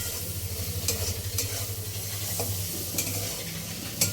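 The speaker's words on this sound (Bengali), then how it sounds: "ধনে গুঁড়ো আর জিরে গুঁড়ো, সবটা ভালো করে মিক্স করে নেব।" Noodles stirred with coriander and cumin powder in a pan for restaurant-style Chinese noodles: continuous sizzle with regular scraping, tapping strokes against the pan, over a low steady hum.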